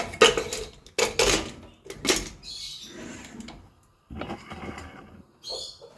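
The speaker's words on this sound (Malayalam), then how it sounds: "നമുക്കിത് കുക്കർ മൂടി കൊടുക്കാം." A pressure cooker lid is handled and shut on a pot of mutton curry, with several clanks of metal, scraping and rattling in separate bursts, close by and with no talk.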